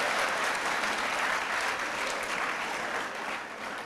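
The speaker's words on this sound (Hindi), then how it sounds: "अब ताली बजाना तो आप बजाइए" Dense, steady applause from a live audience at a Hindi spiritual discourse on the Hanuman Chalisa, sustained and loud throughout with no gaps.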